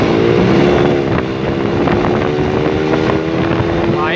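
A motorcycle rides along a road near Cilebut, its engine droning steadily and close with strong wind rushing past throughout.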